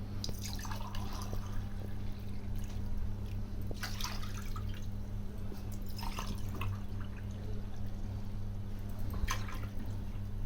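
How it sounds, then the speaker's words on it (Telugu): Water is poured into a pot to boil toor dal, giving intermittent splashes and trickles over a steady low kitchen hum. "దానికి సరిపడా బాయిల్ చేసుకోవడానికి పప్పు 3 గ్లాసు వాటర్ తీసుకుంటున్నాను నేను"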